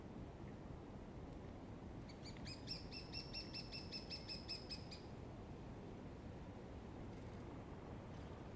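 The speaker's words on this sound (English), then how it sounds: "A pair of them drumming, calling, chasing each other around." A lesser spotted woodpecker gives a faint, distant run of about a dozen evenly spaced, high piping notes over a soft background hush.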